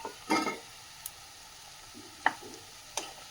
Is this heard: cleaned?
yes